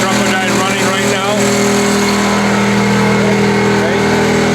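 The 1959 GE LaDawri Conquest experimental car with its gasoline engine running at a steady, loud idle, close by and continuous throughout with a constant drone and no talk over it.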